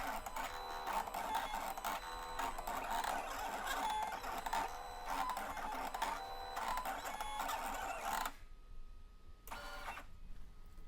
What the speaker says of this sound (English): the machine is first going to find that top left registration mark. It will then move down to the bottom left and then to the top right, kind of reset, and then it will begin cutting.